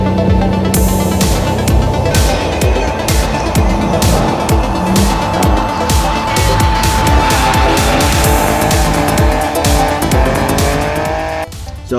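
A car being driven hard on a race track in the rain, with a steady loud engine roar, tire squeal and skidding running throughout, before the sound cuts off near the end.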